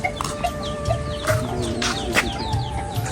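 Busy dairy farmyard in Rahim Yar Khan, Pakistan, with chickens and a rooster clucking and short bird calls scattered throughout, mixed with steady background noise and occasional animal sounds.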